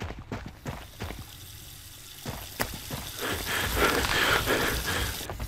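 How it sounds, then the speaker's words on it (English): Steady hiss of running water in the video game Paranormal swells and fills in over the second half, with scattered clicks and knocks earlier on. "Did you leave the water running?"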